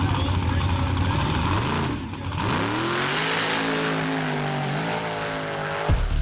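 A mud truck blasts off the line on a dirt drag track at Mud Truck Madness 2013, its engine roaring loud and steady, then revving and climbing in pitch as it races away.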